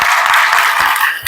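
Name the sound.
audience applause for the teachers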